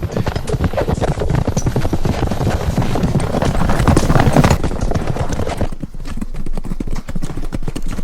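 Hooves of a galloping horse in the video game Gallop Diva, a loud, rapid, steady clip-clop rhythm that runs for several seconds and then drops to a quieter, sparser patter.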